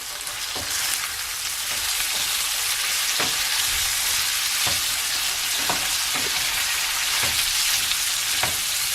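Sausages frying in hot oil in a pan, a loud dense close sizzle with occasional sharp pops and spits over the steady hiss.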